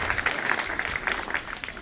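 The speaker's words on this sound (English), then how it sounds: "Can you clap for him?" A university audience at a first-year students' address claps for an area chief, a short burst of scattered, moderately loud hand claps.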